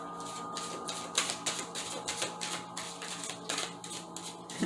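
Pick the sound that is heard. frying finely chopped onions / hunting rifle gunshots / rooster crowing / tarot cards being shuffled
tarot cards being shuffled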